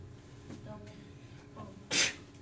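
A single sharp sneeze bursts out near the end of an algebra class, following a few soft breaths and faint background noise.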